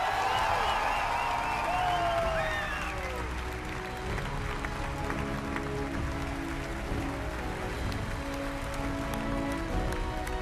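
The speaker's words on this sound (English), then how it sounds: "can I please get another round of applause for that man?" Large live audience at the Bethesda E3 2015 presentation claps in sustained, dense applause, loud and steady throughout, with faint voices and a brief tonal sweep near the start.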